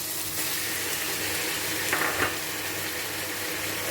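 Beef for a vegetable stir fry frying in a pan, a continuous close hissing sizzle with a couple of brief clinks partway through, no talking.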